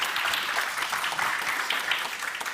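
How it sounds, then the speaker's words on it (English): Audience applause at a European policy conference for a speaker's contribution, a dense, steady crowd clapping from start to finish with no pause. "Could we offer a round of applause, please, for Aurel's contribution?"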